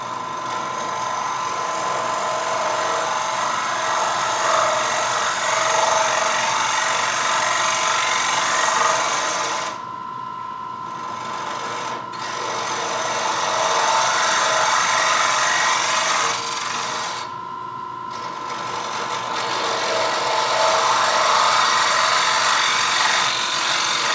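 Wood lathe turning a wooden scoop, a steady high whirring and scraping hiss as the tool cuts the spinning wood, in three long passes separated by brief pauses where the cutting stops.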